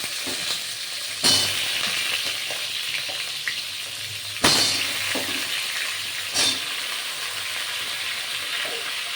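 Mango pieces for pickle hiss and crackle in hot oil in a pan after the chillies have been fried, a steady broadband sizzle with a few sharper bursts as the fruit is stirred.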